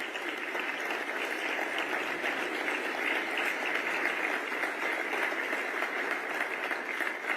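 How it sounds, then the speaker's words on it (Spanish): Business audience at a speech by Milei breaks into steady applause, a dense, continuous wash of many hands clapping at even loudness throughout, heard from a distance in a large hall with no talking over it. "Un aplauso para el señor Santiago Bausili, por favor."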